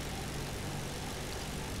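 Propeller engine of a slow tier-3 dive bomber in War Thunder, armed with 7.7 mm machine guns and used against ships, droning steadily and evenly at moderate volume with no voices.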